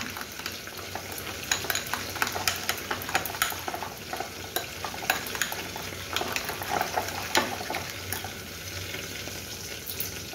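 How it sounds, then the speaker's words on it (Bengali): Spices and chili powder are stirred into yogurt to form a paste for Kashmiri dum aloo, with wet, squelching mixing strokes that recur irregularly over a soft background hiss. "দইয়ের সাথে সব মশলাগুলো খুব সুন্দর করে মেশানো হয়ে গেছে।"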